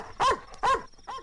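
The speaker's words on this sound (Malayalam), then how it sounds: "പട്ടിയുടെ കുറയല്ലേ കേട്ടത്?" A dog barks three times in a steady rhythm, each bark loud, close and clear against a quiet background.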